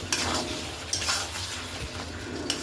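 Mutton kosha being stir-fried with garam masala in a pan, a steady close sizzle broken by scraping spatula strokes and a few clanks against the metal, with no voices.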